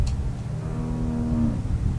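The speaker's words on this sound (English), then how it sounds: "That's a fat cow. That's a big cow." A cow in The Walking Dead video game lets out a single long, steady moo lasting nearly a second, heard at moderate volume over the game's low background rumble.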